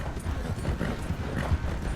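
A strong, cantankerous horse called the Count in Red Dead Redemption 2 clip-clops along with a steady, close rhythm of hoofbeats over low rumbling ground noise.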